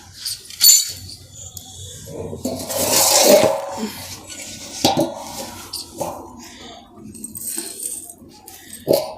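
A metal dish antenna reflector being picked up and handled, giving sharp metallic clinks, knocks and scraping rasps at irregular moments, close and fairly loud.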